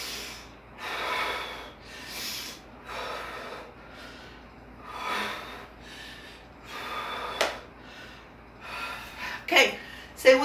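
During an intermediate aerobics workout, someone takes a rhythmic series of loud, close, forceful breaths, each sharp inhale and exhale spaced about a second apart, with a few sharper gasps near the end.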